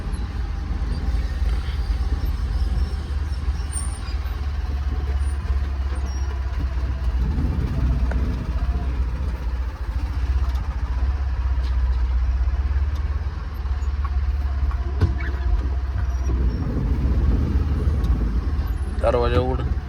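A car engine runs at a low idle while being parked, a constant rumble under occasional voices, with a few small clunks.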